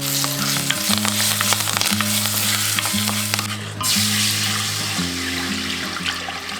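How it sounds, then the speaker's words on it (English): Spices sizzle and fry in hot mustard oil for kadhi: methi seeds, curry leaves, cumin seeds and ginger garlic paste. The sizzle is steady and close, with a sustained tonal hum and no talking. "Then I like to add methi seeds, curry leaves, a bit of jeera or cumin seeds, ginger garlic paste"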